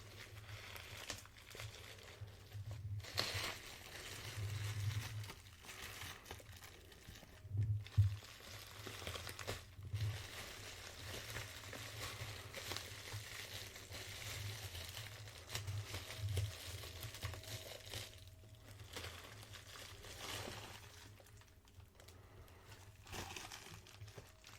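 Cellophane wrapper crinkles on a box of Lattafa Raghba Wood Intense perfume as it is unboxed, a soft, close, continuous crackling with a few sharper crunches and no talking.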